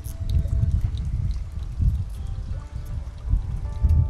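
Petaltone Clear to Light drops mixed into water and sprayed from a bottle onto a crystal, a close, steady misting hiss with soft liquid spatter running continuously.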